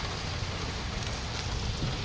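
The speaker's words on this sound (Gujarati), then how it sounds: "હવે ધીમો ધીમો ચાલુ થયો છે. જો વરસાદ વધતો જાય છે" Rain falls and grows heavier, a steady broadband hiss with soft patter at moderate, even loudness and no talking.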